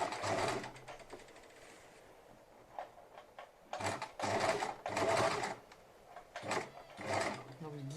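A sewing machine stitches bias binding around rounded fabric edges in bursts of rapid mechanical whirring separated by short pauses, with a voice talking between and over the runs.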